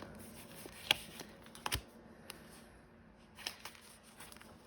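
Tarot cards being shuffled and drawn, heard as soft, close, sparse card snaps and riffles with a few sharper flicks against quiet room background, with no talking.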